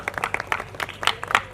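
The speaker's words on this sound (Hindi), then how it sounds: "चलिए जोरदार ताली बजाएंगे आप।" Guests at Gourav and Aarti's wedding ceremony applaud after a vow is spoken, a short spell of scattered, uneven claps that is moderately loud and close.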